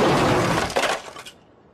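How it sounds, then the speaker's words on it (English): An upside-down 1980s BMW dropped from eight feet lands with a loud crash and bursting glass, followed by scattered tinkling fragments that die away into quiet. "What we have here is a 1980s BMW hanging upside down 8 feet from the ground. And what we're going to do is drop it."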